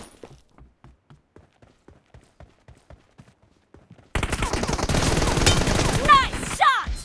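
Gunfire in a battle royale shooter, with an M416 rifle among the weapons: a dense burst of loud rapid shots, preceded by a run of soft footsteps.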